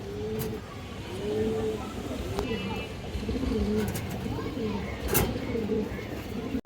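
Pigeons, including a Maxi racer male, cooing in repeated soft rolling calls close by in a bird market, with traffic noise and voices in the background.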